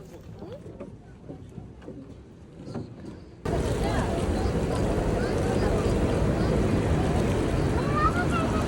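A boat on the Rhine near the Rhine Falls: faint voices and knocks come first, then a sudden loud, continuous roar of rushing water and wind noise fills the rest of the ride.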